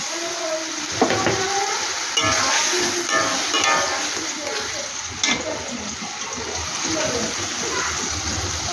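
Chopped tomato goes into a frying pan with chicken and is stirred, producing a wet sizzle and hiss with scraping and a few sharp knocks of the utensil against the pan.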